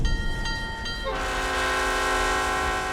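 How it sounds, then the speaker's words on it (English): A train pulls out of Dallas heading west, its horn sounding loud and sustained over the steady rumble and clatter of rail cars, with no one speaking. "a train left the city heading west towards Abilene"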